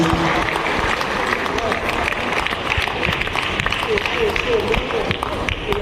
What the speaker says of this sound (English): Applause for our chief lodger, please.